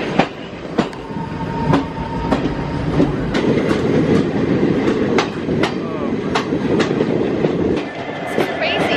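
A long military train carrying tanks rolls past close by, its wheels clacking in a repeating rhythm over the rails beneath a continuous heavy rumble.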